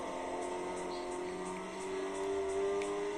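A car engine in Forza Motorsport on Xbox 360 hums steadily at high revs in sixth gear, a sustained droning tone with a slowly rising pitch.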